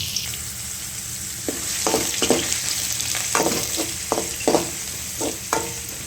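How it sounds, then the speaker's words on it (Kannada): Onions frying in hot oil with mustard seeds and curry leaves for a North Karnataka kaalu palya, a steady close sizzle broken by repeated stirring scrapes and spatters, with no talking. "ಇದನ್ನು ಚಂದಾಗ ಫ್ರೈ ಮಾಡ್ಕೋಬೇಕ್ರಿ, ಉಳ್ಳಾಗಡ್ಡಿ ಹಸಿ ವಾಸನೆ ಹೋಗೋವರೆಗೂ."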